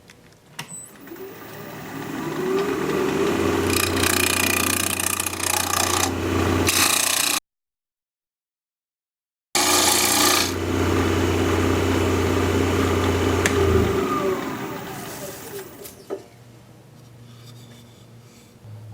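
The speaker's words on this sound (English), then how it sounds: "So I've got my 5/8 inch bowl gouge all sharpened up." A sharpened 5/8 inch bowl gouge cuts Japanese quilted maple spinning on a lathe at 1800 RPM, a loud steady scraping hiss with a low hum, briefly silent in the middle before resuming and fading.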